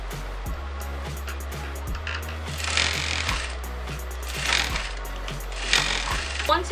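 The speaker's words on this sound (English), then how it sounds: "So now I'm going to sew these together." Sewing machine stitching jacket panels together, a close, steady mechanical whir with a rapid rhythmic needle clatter and a low motor hum, rising and falling in several short runs.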